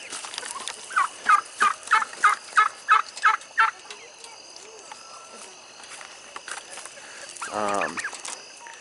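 A sick turkey with an upper respiratory problem lets out a rapid series of about nine short, evenly spaced sputtering calls, then goes quiet before one louder, drawn-out call near the end.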